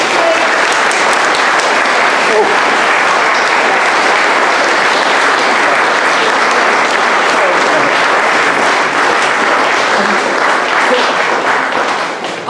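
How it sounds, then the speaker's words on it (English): Loud, continuous round of applause from an audience honouring a speaker named Michelle at a St Cuthbert's gathering, dense steady clapping throughout that fades a little at the very end. "can we have a round of applause again for Michelle?"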